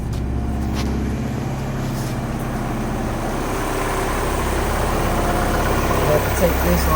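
Engine idling after a throttle and TPS adjustment, a steady low rumble with even, smooth pulsing that swells slightly toward the end, close and continuous without talk.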